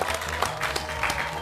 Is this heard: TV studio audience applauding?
yes